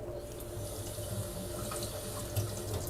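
Salted shrimp get a quick rinse under a running kitchen tap, the water pouring in a steady, close, unbroken splash that hardly varies.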